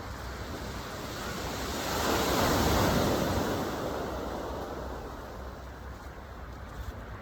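Ocean surf washes in steadily, a broad roaring wash that swells to a peak midway and eases off again, close and fairly loud with wind across the microphone and no voices.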